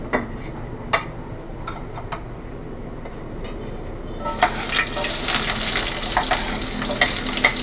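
Pork ribs sauté in a pan for a kaldereta stew, giving a steady sizzle with a few scraping clicks that swells into a louder, crackling fry about halfway through.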